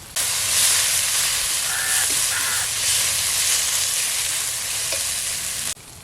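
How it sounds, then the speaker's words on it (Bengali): Spice paste with turmeric and cumin powder frying in a pan for a country chicken curry, a loud continuous hiss and sizzle with stirring scrapes, cutting off abruptly near the end. "লঙ্কার গুঁড়ো দেবো এর মশলাটাকে ভালো করে ভেজে নেব"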